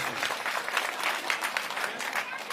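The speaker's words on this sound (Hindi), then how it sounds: "इसके लिए जोरदार तालियां" Applause from a crowd at a Delhi assembly election rally: dense, steady clapping that carries evenly through the whole stretch at moderate loudness, with no voice on top.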